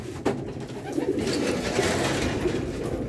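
Racing pigeons coo softly inside their loft, a steady low burbling from many birds close together, with a brief knock near the start and no talking.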